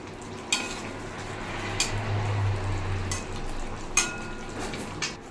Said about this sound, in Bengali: এবার দিয়ে আমি নাড়াচাড়া করে নেব